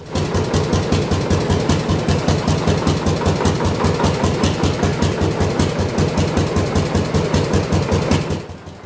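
Lanz Eilbulldog D2539 tractor, a barn-find vintage machine, with its engine running in a steady rapid thumping beat, loud and close, then cutting out near the end.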